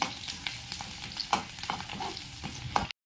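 Onions sizzling and being stirred in a pan of oil left over from frying fish, a steady close crackling hiss with occasional scraping strokes of the spoon.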